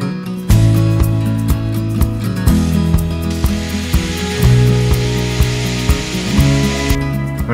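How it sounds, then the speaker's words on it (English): A power drill bores holes through the rudder housing and blade of a home-built catamaran, with a steady close whirring motor and repeated short bursts and pauses, along with faint knocks. "then I drill the holes for holding the rudders in place"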